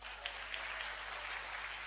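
A brief patch of audience applause in a seminar hall, a steady wash of many hands clapping at moderate loudness for just under two seconds.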